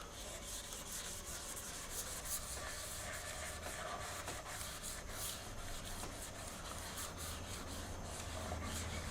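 Soft, continuous rubbing strokes from wet sanding a Stratocaster guitar body by hand with sandpaper, a faint, close, repeated scratchy swish with no voices.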